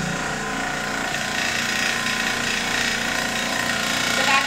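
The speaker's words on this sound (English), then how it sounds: "And then we're going to go down here and turn on the vacuum pump." A vacuum pump runs in a laboratory porosity test using the liquid saturation method, giving a steady, continuous mechanical hum and buzz at close range with no speech.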